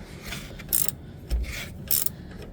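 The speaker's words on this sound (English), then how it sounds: "now we're going to tighten that nut again on that bolt" A nut tightened onto a bolt on a Jeep with a ratchet, giving several short metallic clicking bursts in quick succession, close and fairly loud, with brief pauses between strokes.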